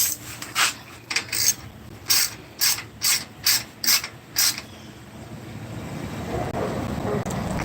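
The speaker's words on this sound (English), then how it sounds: "Ratchet is a 10 millimeter." A ratchet wrench with a 10 millimeter socket, working a bolt during prep for a Honda 350X build, giving about nine evenly spaced clicking ratchet strokes up close, followed by rustling handling noise.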